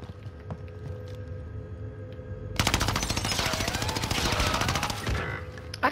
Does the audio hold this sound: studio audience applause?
no